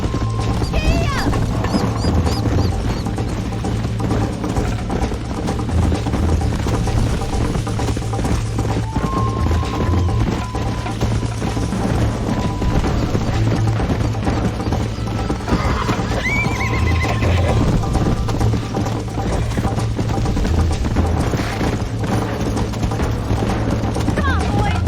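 A horse in the Red Dead Redemption video game gallops with continuous hoofbeats under steady loud game noise, and neighs now and then. A voice speaks briefly.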